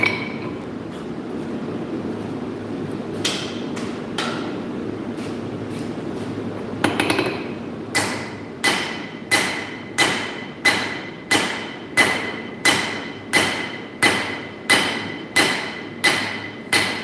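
Hot metal is drawn out by hammer forging: a few scattered strikes over a low background rumble, then a steady run of loud, ringing blows at about one per second.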